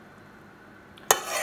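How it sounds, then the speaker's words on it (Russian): A spoon stirs salt into 300-350 g of water in a bowl while making dumpling dough: near-silence, then a sudden close scraping clatter that continues to the end, with no talking. "Так, вот это вот все размешиваю."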